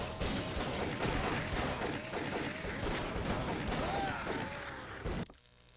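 Rapid gunfire in Call of Cthulhu: Dark Corners of the Earth, a dense run of repeated shots that fills the scene for about five seconds and then cuts off abruptly into quiet.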